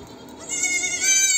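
A goat bleats once on a rooftop at feeding time, a clear, wavering, nasal cry rising out of quiet background and holding for close to a second.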